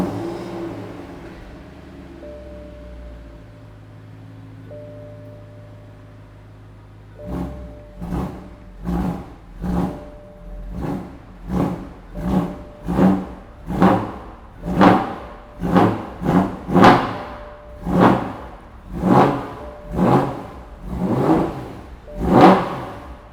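A V8 engine fitted in a BMW 116i cranks and fires into a rough idle, then gets blipped into a long series of deep, loud revs that rise and fall in a regular rhythm, close up with no talking.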